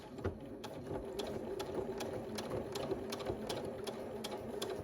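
A sewing machine back-stitching quilt binding, a close, rapid mechanical chatter with regular ticking pulses that runs steadily throughout, with no talking.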